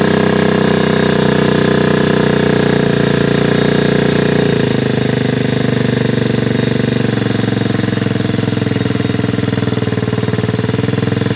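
A small 60cc dirt bike engine runs steadily at a fast, rattling idle after a throttle cable fix, loud and close with a constant buzzing drone and no talk.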